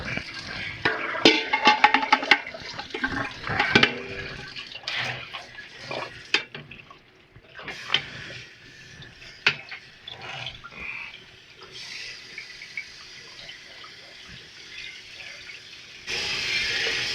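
Tap water runs into a cooking pot holding rinsed potatoes in a home kitchen, a broad steady splashing rush with clanks of the pot early on, the pitch shifting as the pot fills, ending in a brighter gush.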